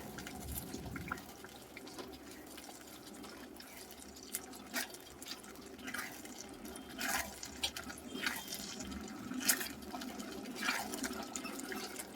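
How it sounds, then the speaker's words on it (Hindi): Water goes into a vegetable manchurian mixture in a home kitchen with soft, uneven splashes and drips, broken by a few sharper clinks of a bowl against the pan. The sound is fairly quiet and close. "आधा कटोरी और हमने ऐड किया है पानी"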